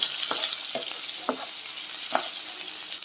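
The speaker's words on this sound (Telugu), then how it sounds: "అలాగే కరివేపాకు కూడా యాడ్ చేసి ఈ ఉల్లిపాయలు బాగా వేగేంత వరకు ఫ్రై చేసుకోండి" Chopped onions and green chillies fry in a pan with a steady, bright, close sizzle, broken by a few stirring scrapes at irregular intervals, and no one talks.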